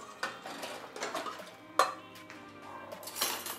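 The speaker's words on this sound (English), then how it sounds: "let me see if I can get a bigger pot" Metal cooking pots clattering and clinking in a home kitchen as a bigger pot is fetched for a Dominican bacalao dish: light scattered knocks and one sharper clang, fairly close and quiet, with no talking.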